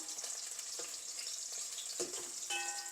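Brinjal (eggplant) pieces fry in hot oil for a vegetarian biryani, giving a steady, bright hiss with intermittent spattering and a few stirring knocks near the end.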